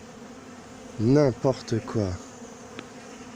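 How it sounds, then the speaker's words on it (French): Honey bees buzz around an open horizontal hive, a steady close insect drone, while a person speaks French briefly over it. "On fait comment là pour pas écraser les abeilles?"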